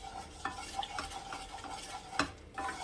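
Oil heating in a kadai while cooking kasundi bhetki, a soft steady sizzle under repeated stirring strokes and light metallic scrapes, close and moderately quiet.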